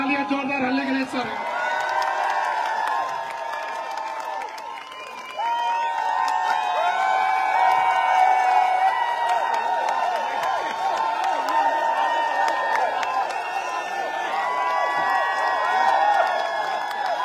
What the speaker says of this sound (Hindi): तो जोरदार तालियां, जोरदार हल्ले के लिए सर।